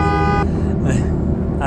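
A pink car's horn in the Shutoko Revival Project racing game on a Tokyo expressway gives one short, loud honk, and a voice starts talking right after it.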